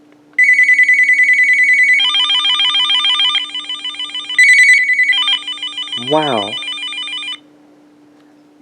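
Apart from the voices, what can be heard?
Uniden 900MHz DSS cordless phone ringtone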